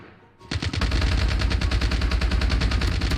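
Sustained automatic gunfire in a video game, a loud, dense, continuous burst that starts abruptly after a brief quiet moment and keeps going to the end.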